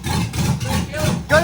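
Engine of an LS-swapped Jeep revving as the gas pedal is pressed, a steady low rumble that holds near and loud, then surges sharply at the end.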